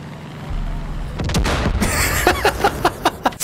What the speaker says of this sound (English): And then I just hear a massive explosion